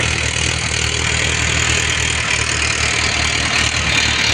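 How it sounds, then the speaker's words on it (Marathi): A tractor engine runs steadily in a farm field, a loud, continuous mid-to-low rumble that holds an even idle throughout and is heard up close without any voices. "लय भारी ट्रॅक्टर आहे ट्रॅक्टरचं हो"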